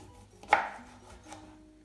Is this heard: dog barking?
no